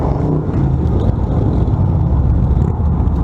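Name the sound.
cars driving past on a road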